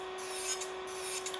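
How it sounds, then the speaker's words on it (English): An electric nail drill files a fingernail, giving a steady, close whine with a soft rasping grind that swells and eases over about a second. "I'm still obviously learning how to control the drill"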